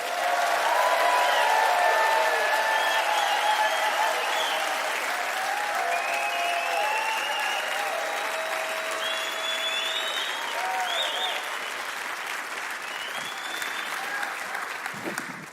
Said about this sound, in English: giving a raucous applause for Kayleigh